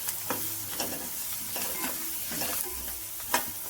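Fried potatoes being stirred into spiced rice masala with lemon juice in a pan, with repeated scraping stir strokes about every half second over a soft steady sizzle, close and fairly quiet.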